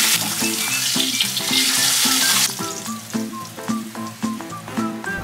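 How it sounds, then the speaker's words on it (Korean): Salt-and-pepper seasoned beef sirloin sizzles loudly in a frying pan, a steady dense crackle of frying fat that stays close and continuous throughout, with no voices. "기호대로 소금 후추 간해주고 후라이팬에 튀기듯이 구워줄 거예요"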